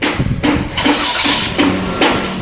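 Close, loud Toyota Wigo engine cranking with a rough whooshing rumble and rhythmic pulses as the motor turns over and catches.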